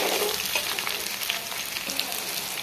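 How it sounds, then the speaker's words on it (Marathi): Green chilies frying in hot oil in a pan, a steady close crackling sizzle with faint stirring, no talk. "तेलामध्ये छान मिरची परतून घ्यायची"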